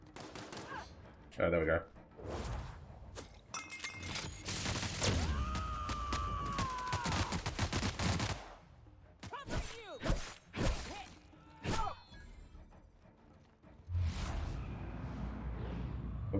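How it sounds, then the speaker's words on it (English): Bursts of companion gunfire in The Outer Worlds, the video game, popping in scattered volleys amid combat noises while a person talks over the action. "What's she shooting at?"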